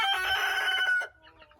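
A bearded rooster on a Florida farm crows loudly and close for about a second, an angry-sounding call that cuts off abruptly, followed by a few faint clucks.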